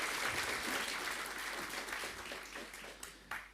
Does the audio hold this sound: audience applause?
yes